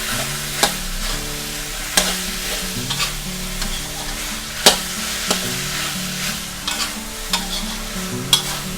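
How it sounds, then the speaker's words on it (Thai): Precooked sausages stir-fry for a dish with chilli paste, a constant hot sizzle close by, punctuated by regular sharp spatula clacks and scrapes against the pan about once a second. "อันนี้เราแค่ผัดให้เขา ร้อนๆก็พอค่ะ"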